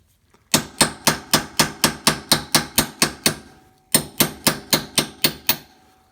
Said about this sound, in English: the steel hammer seems to be working a whole lot better than my rubber mallet